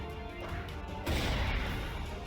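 A grenade goes off in Final Fantasy X HD Remaster as a single sudden crashing burst midway through, following quieter game ambience and leaving a loud, noisy tail.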